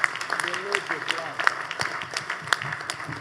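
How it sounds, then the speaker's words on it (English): An audience at a bank's annual general meeting applauds the board, staff and management, giving steady crowd clapping that fills the room with sharp scattered claps. "Please give this board, staff, and management a hand of applause"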